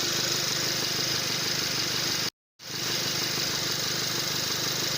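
Ford Territory engine running with the AC compressor engaged, a steady loud mechanical drone with broadband hiss that cuts out briefly midway before resuming unchanged.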